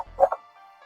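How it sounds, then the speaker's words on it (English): A household dog barks at trick-or-treaters on Halloween: two quick, sharp barks close by, then a quiet steady tone lingers. "We're just gonna start out barking at the trick-or-treaters."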